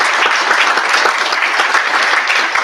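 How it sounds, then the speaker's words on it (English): Dense round of applause from a gala audience, steady and full for nearly three seconds with no break and no talk over it. "Another round of applause for Sarah for everything"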